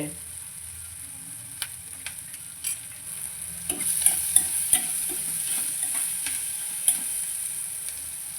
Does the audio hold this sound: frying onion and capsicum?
yes